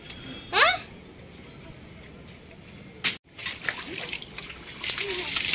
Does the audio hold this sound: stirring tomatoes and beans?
no